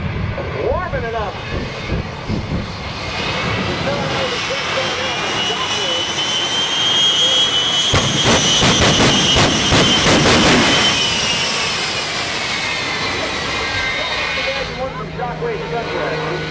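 The Shockwave jet truck's jet engine roars loud and steady at an airshow, swelling to a harsh, crackling peak midway before easing back, with a crowd faintly audible beneath.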